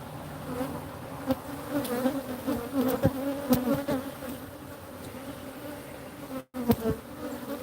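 A dense swarm of honeybees hums steadily at close range around an open hive during a routine check, a continuous layered drone with a few sharper passes of individual bees and no voices.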